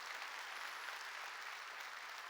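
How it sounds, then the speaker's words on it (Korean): A church congregation claps together during a sermon at a Korean church service. The applause is a steady, dense wash of clapping that holds at an even level throughout, heard from a distance and fairly faint. "깨달은 사람만 박수 치라"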